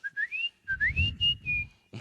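A person whistles a short radio station jingle, two rising melodic phrases with a sustained held note, close and clear with no talking.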